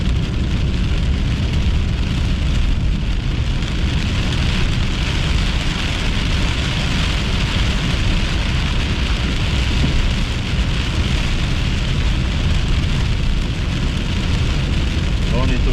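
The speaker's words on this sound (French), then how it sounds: "On court après les petits orages du Québec." A thunderstorm in Quebec sounds as dense, steady rain hissing and pattering continuously over a constant low rumble of thunder, loud and close throughout.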